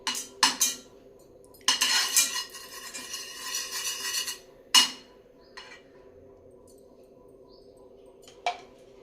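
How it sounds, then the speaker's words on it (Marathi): Cashews and almonds being roasted in ghee in a hot kadhai, with bursts of scraping and clinking as a metal spoon stirs them, separated by short quiet pauses and a few sharp knocks. "आता या तुपामध्ये सर्वात आधी हे काजू बदाम चांगले परतून घेते"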